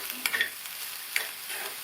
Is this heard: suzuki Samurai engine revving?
no